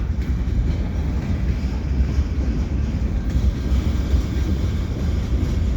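CN freight train, pulling a TTC tram load, crossing the Lachine Canal bridge in cold fall weather, a steady, loud low rumble of rolling cars that holds without a break.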